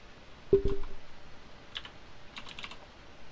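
A name is typed on a computer keyboard in a quiet room, heard as a brief cluster of clicks followed by a few softer, scattered keystrokes.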